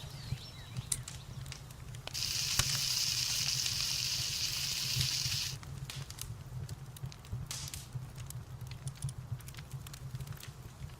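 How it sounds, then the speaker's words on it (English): A frying pan cooks an egg in the video game FFXIV, giving a soft, even sizzle that swells for about three seconds, then drops back to a quiet background with faint ticks. "when I use the frying pan, it actually works like a frying pan"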